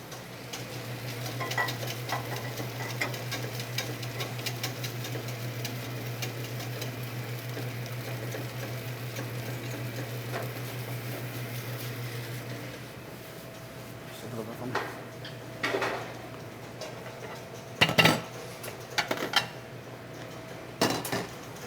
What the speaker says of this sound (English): we're gonna shake the pan and stir in the center. Shake and stir, shake and stir.